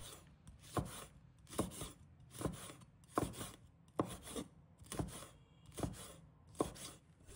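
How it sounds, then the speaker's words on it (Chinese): A knife chopping bird's eye chilies into small rings on a board, a slow even rhythm of about nine crisp taps, close and quiet, with no speech. "小米椒切成小圈。"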